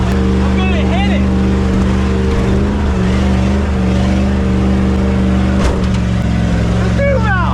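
Ford truck with a 2-valve engine run with the throttle floored, a loud sustained droning roar with a slowly shifting pitch, and people talking and shouting over it.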